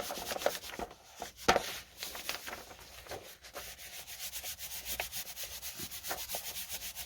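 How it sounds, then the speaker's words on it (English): Glue being rubbed together by hand to warm it up while making an altered book junk journal, close, with dry scraping and rubbing strokes, a few sharper taps, then a steady rhythmic rubbing, with no talking. "my glue's a little cold, so you want to just kind of rub it together,"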